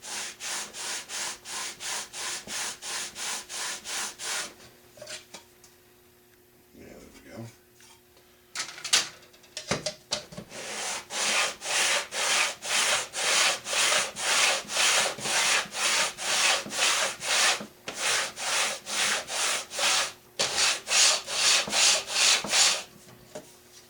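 A model railroad kit piece of wood is rubbed back and forth on 320 grit sandpaper, close and steady, in rapid regular strokes that pause briefly partway through before resuming in long even runs.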